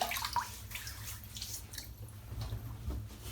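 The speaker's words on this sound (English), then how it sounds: "So I'm just going to wet my head." Water splashes and trickles steadily while a man wets his head before a shave, a soft continuous wash with small drips close by and no talking.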